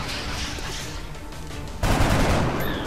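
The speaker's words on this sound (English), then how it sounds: "I'm going to click one and shoot at this guy." A gunshot burst in the strategy game XCOM: Enemy Unknown, a loud crack of rapid fire that breaks in after nearly two seconds of low background hum and continues to the end.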